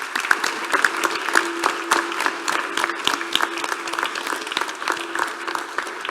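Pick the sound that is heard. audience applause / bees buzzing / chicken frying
audience applause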